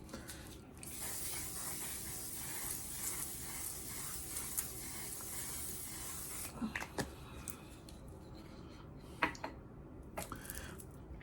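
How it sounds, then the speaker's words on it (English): A sustained aerosol spray of makeup setting spray hisses close by for about five seconds, then gives way to quiet rustling and a few small clicks. "So now I'm going to spray one more time with one set."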